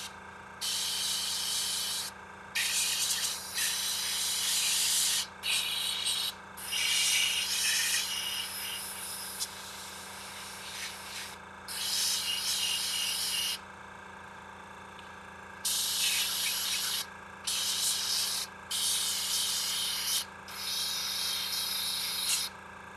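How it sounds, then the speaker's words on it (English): An airbrush sprays paint onto a Warhammer Dark Angels vehicle model in short, repeated hissing bursts of a second or two, separated by brief pauses, close and fairly quiet, with no talking. "we've airbrushed on our darker colors"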